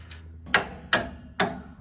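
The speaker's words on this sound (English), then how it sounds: "I'm tapping on the bolt with a brass hammer." A brass hammer taps a bolt out of a car's rear control arm mount, three sharp metallic knocks spaced evenly and close, with a faint fourth tap at the start and no talk.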